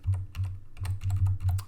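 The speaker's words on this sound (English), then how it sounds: "it's a lot faster just to quickly reach over to your arrow keys on your keyboard" Arrow keys on a computer keyboard are pressed quickly in a steady run of about six taps, each a short clicky keystroke with a low thump, close up and alone.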